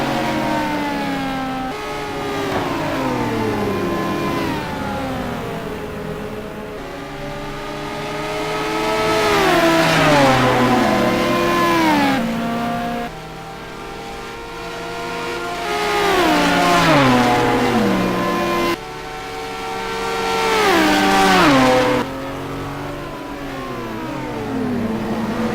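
GT race cars, including a McLaren, lap Spa in a sim racing game. High-revving engines wail and climb through the gears in repeated sweeping runs, with downshifts and overlapping cars, and no voices.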